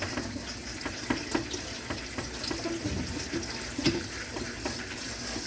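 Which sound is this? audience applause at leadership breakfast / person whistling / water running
water running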